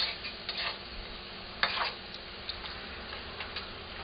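Gyudon beef simmering in a wok, with a soft steady sizzle and bubbling and a few faint clinks and ticks scattered through.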